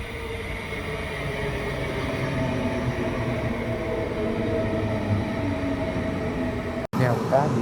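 A Queensland Rail IMU 100 series train arrives, with a steady rumbling roar throughout, then a sudden break and the squeal of wheels or brakes at the end.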